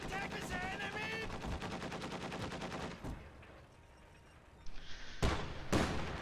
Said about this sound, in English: Autocannon firing on those grenadiers continues to be base locked.